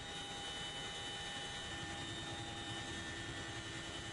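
Aircraft engine drone from a military plane holding at 600 m altitude during a parachute drop, a steady, even hum with faint tonal whine, constant throughout and fairly quiet.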